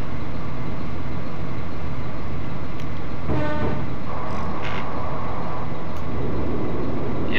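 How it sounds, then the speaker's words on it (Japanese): A train in the Densha de GO!! Professional 2 game, a JR 103 series on the Tsurumi Line, runs with a steady, loud rolling rumble as another train passes, while brief horn-like tones rise over the noise midway. "やっぱすれ違う電車がいると高まりますね"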